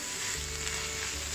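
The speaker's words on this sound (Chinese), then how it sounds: "继续给它炒拌均匀。" Egg mixture for osmanthus-style eggs sizzles and fries steadily in a hot pan as it is stir-fried, a continuous close crackle with soft scraping, no talk.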